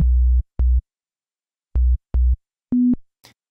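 Standard sine wave bass in a pop production, playing a few clean, smooth short low notes with gaps between them, then a higher note, sounding pure and thin with little texture.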